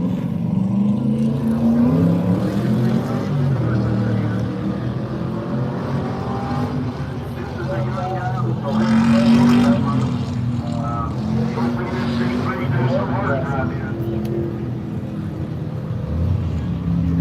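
A 1972 Corvette race car runs a hill climb shootout, its engine droning steadily and swelling in a midway surge, heard under continuous commentary.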